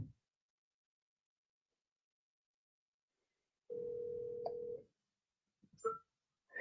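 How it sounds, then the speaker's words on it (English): An outgoing telephone call is placed during a live online broadcast: after silence, a single steady electronic ring tone sounds for about a second, clear and moderately loud, followed by a few brief, faint chirping blips. "Calling Stu on the phone."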